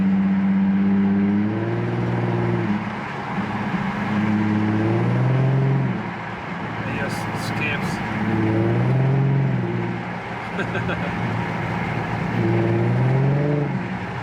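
An Infiniti G35 coupe with an ISR blast pipe exhaust drives along, its engine droning steadily with rising and falling tones as it pulls through the gears, close and continuous with no talking.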